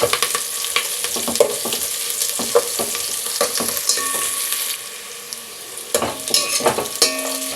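Onions frying in a pan while being stirred until brown, a continuous close sizzle broken by repeated scraping and clinking strokes of a spoon against the pan, with no voices.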